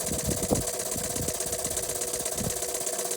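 A 1953 Jensen 50 toy steam engine runs under load as a small power plant, giving a fast, steady mechanical chuffing and knocking rhythm with a constant hiss, close by.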